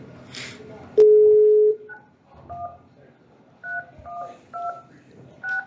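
Telephone keypad tones dialing into a Zoom meeting during a board meeting: a long steady beep followed by a series of short, evenly spaced dual-tone key presses, clear and close in an otherwise quiet room.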